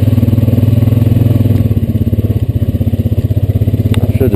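Loud, close, rhythmic engine chugging of a Honda Rancher 420AT ATV riding a wooded land trail, a steady pulsing drone that continues throughout with a few light clatters.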